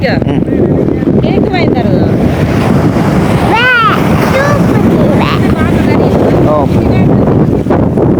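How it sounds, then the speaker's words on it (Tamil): Strong wind blowing across a beach with sand, a loud, constant roar and buffeting against the microphone, with surf rumbling underneath and faint voices in the background. "மண்ணோட்டு வருது காற்று காற்று அடிக்கிறது அப்படி மண் இங்கே வருது"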